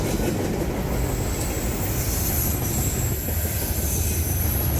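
A CSX SD70MAC diesel locomotive train rolls past up close, loud and continuous, with heavy low rumble, rattling cars and a faint high wheel squeal throughout.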